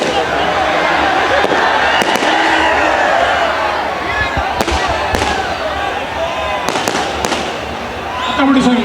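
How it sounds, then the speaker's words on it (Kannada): Firecrackers burst at the Ramanagara Karaga festival, several sharp cracks spaced irregularly over a loud, continuous crowd din with a voice speaking through it. "ಈ ಪಟಾಕಿ ನನಗೆ ಬೇಕಾಗಿಲ್ಲ."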